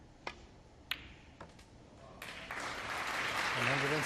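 A snooker crowd at the Masters applauds a pot, as a few sharp ball clicks give way to steadily building clapping that swells into sustained applause, with a voice speaking over the final moments.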